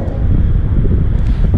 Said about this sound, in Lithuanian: Biški vėjas pučia vakare.